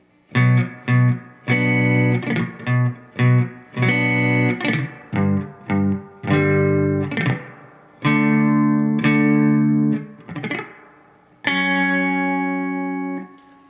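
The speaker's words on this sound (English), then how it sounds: "So part 1 of the bridge played all together in slow." An electric guitar slowly plays the first part of the bridge, a sequence of distinct sustained chords and notes with clear attacks, alone and close, ringing out longer toward the end.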